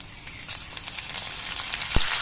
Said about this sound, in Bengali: এবার এর মধ্যে আমি এক চামচ আদা বাটা দিয়ে দিচ্ছি